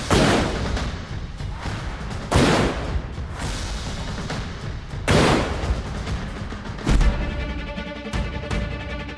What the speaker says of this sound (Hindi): ये है इंडियन फील्ड गन की ताकत।